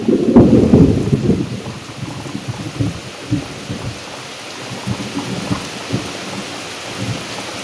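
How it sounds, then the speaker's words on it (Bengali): A heavy afternoon downpour drums steadily while a deep roll of thunder rumbles loudly at the start, then fades into the constant wash of rain. "কি বিশাল জোরে বৃষ্টি এসেছে সাথে আকাশ ডাকা বিদ্যুৎ চমকানো"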